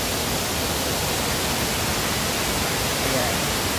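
Bulingan Falls in Lamitan City, Basilan, pours as a dense, steady roar of rushing water, loud and unbroken throughout, with no pauses or distinct events.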